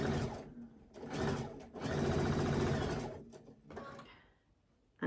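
A sewing machine stitches quilt squares along a diagonal line in several steady bursts with brief pauses between them. The motor hum and needle clatter sound close and moderately loud.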